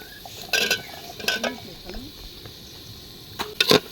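Cut potatoes go into a pan of spices for ghugni, cooked outdoors beside the Churni river, followed by a low sizzle with a few distinct scraping stirs and clatters, close and moderately loud.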